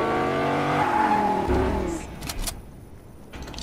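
A car driven in Fortnite Battle Royale, its engine note rising and bending as it revs over a rough rumble and then cutting out, leaving a few sharp clatters and quieter noise.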